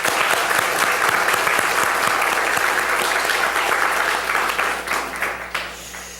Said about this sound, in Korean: 우리 수고하신 자매님과 또 우리 준영이 위해서 박수 한번 드리겠습니다.